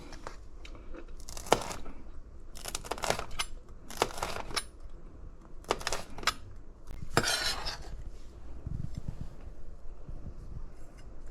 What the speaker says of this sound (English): I'm gonna just chop this up